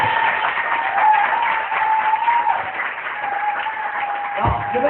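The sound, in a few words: congregation applauding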